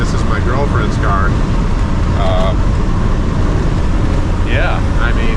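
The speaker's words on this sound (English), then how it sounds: "The top definitely isn't sealed. They don't really seal from the factory. That's a lot of the wind noise." Steady broadband wind roar fills the cabin of a 1972 MG Midget convertible with a factory-unsealed soft top while driving, loud and constant throughout, with road rumble beneath and brief voice fragments over it.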